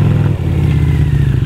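A motorcycle engine runs loud and close at a motorcycle festival in Horsens, a steady rumbling idle with slight revving and mechanical clatter throughout, with no talking over it.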